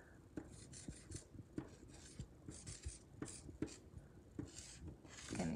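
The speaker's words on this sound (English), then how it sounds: "I'm going to erase go and I'm going to change it out with" A written word is rubbed off a board during a classroom lesson. It sounds like quiet, rhythmic back-and-forth scrubbing strokes, close and soft, with a louder rub at the end.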